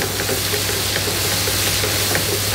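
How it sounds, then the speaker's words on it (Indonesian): Curly green chilies and pounded candlenut are stir-fried in a pan for a beef dish, giving a loud, continuous sizzle with a steady hiss and faint stirring scrapes throughout, no voices. "Kita tumis sampai benar-benar harum."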